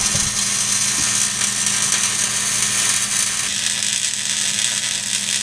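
Arc welding a Dorman bump stop onto the frame of a one-ton Nissan truck, a steady loud crackling buzz that runs without a break, close up, with no talk.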